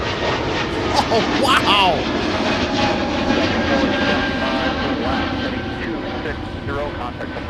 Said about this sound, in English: they touched down there, and then they said, nope, we're going to go around